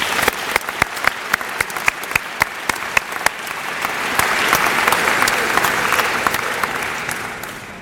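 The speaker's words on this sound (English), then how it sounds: "let's thank them for their generosity with a round of applause" Audience at a Washington and Lee athletics award ceremony applauding a round, with sharp individual claps up front building into a dense, sustained wash of clapping that swells and holds.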